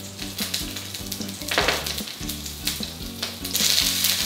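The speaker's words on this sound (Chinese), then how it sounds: "我们下一点油，热锅来下咱的肠啊" Crispy-style pork intestines frying hard in hot oil in a wok, a loud continuous crackling sizzle that surges in bursts as the pieces are tossed and stirred, with no talking.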